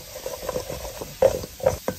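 Seasoned potato wedges being tossed and stirred on a hot griddle, giving soft scraping and shuffling strokes with a faint sizzle underneath and two sharper scrapes near the end.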